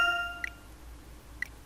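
Save confirmation chime from the Professor Layton vs Phoenix Wright video game: short bright dings sound at three points in sequence, each brief and moderately clear, over a faint sustained musical tone that fades early.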